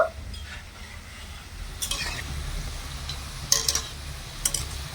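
Chomchom sweets made from puffed rice frying gently in oil, a low steady sizzle punctuated by a few sharp clicks and scrapes of a utensil against the pan.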